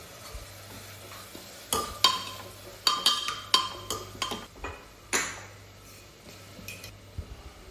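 A spoon stirs beef curry with ginger and garlic paste in a pot, producing scraping strokes and sharp metallic clinks against the pot over a low sizzle. The clinks come in an irregular series of bursts.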